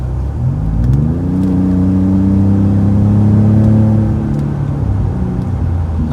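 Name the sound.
Ford F150 3.5 EcoBoost truck engine with MBRP exhaust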